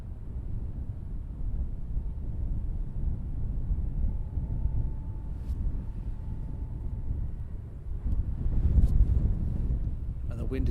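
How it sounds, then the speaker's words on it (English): Wind buffets the microphone outdoors at an airfield, a steady low rumble with gusts that strengthen toward the end, loud and continuous throughout. "Wind is picking up here now."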